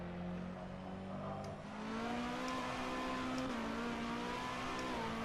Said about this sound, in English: And again, different engine sounds.